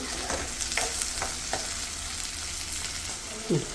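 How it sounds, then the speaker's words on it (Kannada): Green peas frying in a little oil, a continuous close sizzle with a few light stirring clinks and a brief scrape near the end, no talking. "ಬಟಾಣಿ ಸ್ವಲ್ಪ ಎಣ್ಣೆಯಲ್ಲಿ ಚೆನ್ನಾಗಿ ಫ್ರೈ ಮಾಡಬೇಕು"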